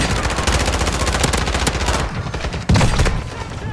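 Rapid automatic gunfire in a ranked Call of Duty: Warzone match on Al Mazrah: a loud, continuous rattling stream of shots, briefly thinning, then a heavier burst and blast near the end, close and dominant.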